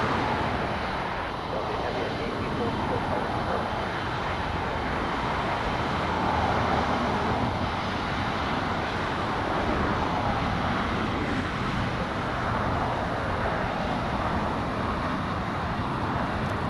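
Airliners at LAX airport produce a broad, continuous jet roar at steady loudness, with a faint voice occasionally beneath it.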